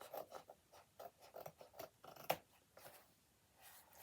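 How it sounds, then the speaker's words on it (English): Quiet, close snipping and scraping of scissors through paper, a series of short irregular cuts with one sharper snap partway through. "I'll use my scissors for this."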